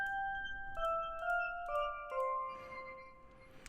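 A KASPAR synth on a lightly tweaked Soft preset plays a slow descending line of soft bell-like tones, each note stepping down and ringing on before a noisy swell near the end, fairly quiet and without voices.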